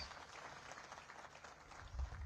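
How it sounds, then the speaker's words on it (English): Applause from the audience at an East African Community regional ministerial higher-education conference, a steady, fairly quiet wash of clapping that runs the whole moment, heard from some distance in a large hall. "Can we give them a big round of applause?"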